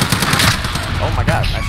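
Rapid automatic gunfire in a Call of Duty match, a loud continuous burst of shots with a voice speaking over it.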